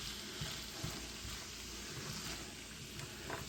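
Shrimp stir fry cooking in sesame oil in a pan, giving a steady, fairly quiet sizzle with a few soft stirring knocks and clicks as the pieces are flipped.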